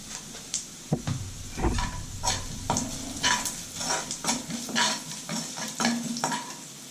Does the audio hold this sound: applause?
no